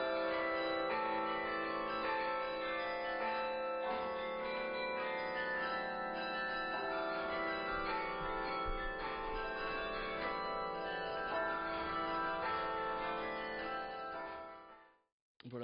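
Carillon bells play a continuous tune at a festive public event, full and steady with rich ringing overtones, fading out near the end.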